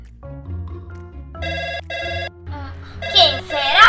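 A telephone rings in a children's playtime story, giving a melodic ringtone of two sustained bursts over soft background music, followed by louder, higher tones as a voice starts.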